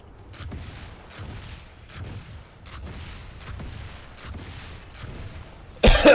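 Rhythmic bursts of weapon fire in the PS4 shooter Planetside 2, spaced about every half second at moderate distance, ending in a sudden loud, dense blast.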